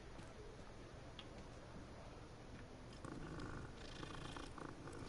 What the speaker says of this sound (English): Seem like they got different cats in this game too.